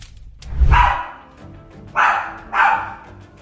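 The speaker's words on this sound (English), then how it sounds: "if they are barking with this much focus and intensity, you should be concerned" A dog barks with intense, focused aggression: one deep, forceful bark opens, and two sharper, louder barks follow about half a second apart. The barking is close and carries no talk.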